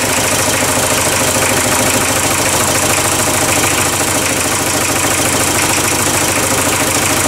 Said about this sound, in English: Yeah, it's running on three cylinders.